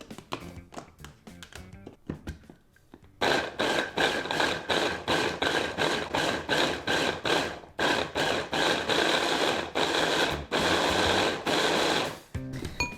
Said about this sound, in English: we're gonna chop this in our mini food processor